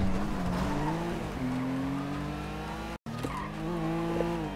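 A sports car in the GTA Online racing game, engine droning and rising under hard acceleration with whining tire squeal and skidding, close and continuous with a brief dropout midway.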